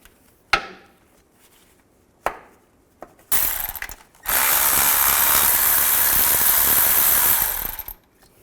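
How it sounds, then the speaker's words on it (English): A 15mm socket on a ratchet and power tool backs bolts out of a 2000-2006 Chevy Tahoe transfer case shift motor, with a few sharp metallic clicks and then a loud, sustained whirring burst close by. "now we're going to take a 15mm socket and take these 3 bolts out"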